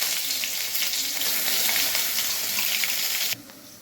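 Spice paste for shahi paneer sizzles and fries steadily in a hot wok, a dense continuous hiss that holds close and loud before dropping away abruptly near the end.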